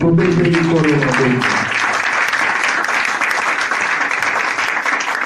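Congregation at a Sunday church service breaking into loud, sustained applause that fills the room, with a few voices over the clapping at the start before it settles into steady broadband clapping.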